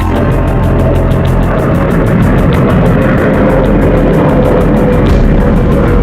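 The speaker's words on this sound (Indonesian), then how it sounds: "Mereka didukung oleh pesawat-pesawat tempur." A propeller fighter aircraft drones loudly and close, its engine roar pulsing in a fast, steady rhythm throughout.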